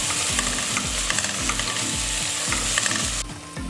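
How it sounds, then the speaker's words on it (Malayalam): Crushed ginger, green chilli and garlic sautéing with onions for a Kerala-style beef curry, a steady close sizzle broken by regular rhythmic scrapes of a spatula stirring the pan, with no talking. "ഇതിൻ്റെ പച്ചമണം മാറുന്നത് വരെ നമുക്കിങ്ങനെ ഒന്ന് വഴറ്റി കൊടുക്കാം."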